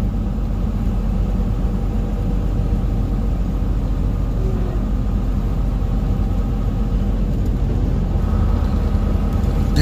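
Semi truck engine loaded to about 42,000 pounds, rumbling steadily and close on a long 6% downgrade in roughly ninth gear, a continuous low drone with no clear shift break.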